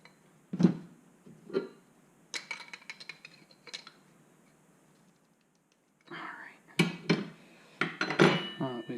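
Coilover bolts on a 2017 Ford Fiesta ST are snugged up with scattered metallic clicks and clanks from hand tools, arriving in short bursts with a quiet gap in the middle, while people talk softly nearby.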